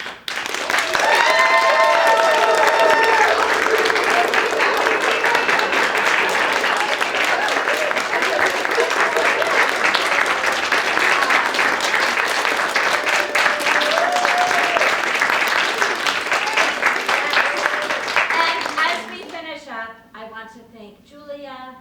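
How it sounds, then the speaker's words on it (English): A large audience at a Friday Night Take Five live event breaks into loud, sustained applause, broad and continuous for most of the stretch before thinning out as a voice begins to speak near the end. "Please give them a huge round of applause"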